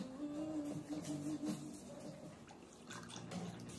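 Water buffalo milk is poured into a glass, a liquid splashing and trickling stream that runs near and fairly loud for several seconds before easing off.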